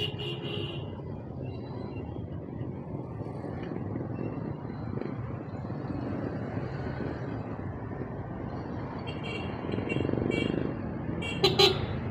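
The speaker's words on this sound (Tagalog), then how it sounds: "Lakas ng busina natin mga kalakbay, parang kala mo sasakyan, yun pala motor lang" A motorcycle horn on a road in Morong, Rizal honks loudly near the end, a brief blare over steady traffic rumble and wind noise.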